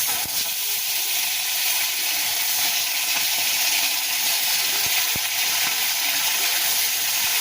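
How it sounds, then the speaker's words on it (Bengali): Lote fish (Bombay duck) frying in hot oil in a wok, giving a loud, steady sizzle and hiss that holds throughout with a few small pops and clicks. "কড়াটা গরম হয়ে গেছে আমরা একের পরে এক মাছটা ছেড়ে দেবো"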